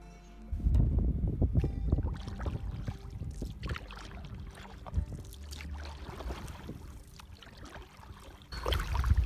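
A kayak paddles across a lake, with irregular splashes and water swishes from paddle strokes close by, over light wind noise on the microphone.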